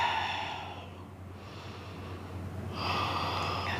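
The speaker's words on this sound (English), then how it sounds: "Nice, deep, even inhales and exhales." Deep, even breathing during a yoga squat, with a slow inhale and exhale rushing close to the microphone over a low steady hum, with no talking.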